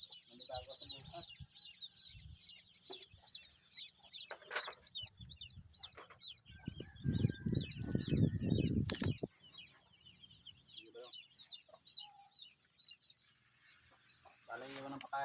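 Chickens and chicks clucking and chirping on a farm, with frequent high peeps throughout, a burst of wing flapping in the middle, and some low background noise.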